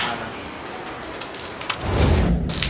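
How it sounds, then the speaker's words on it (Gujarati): Rain falls as a steady broadband hiss of drops on surfaces, growing heavier and fuller toward the end, with no voices present. "વરસાદ છે"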